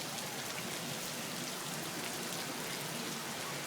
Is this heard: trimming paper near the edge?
no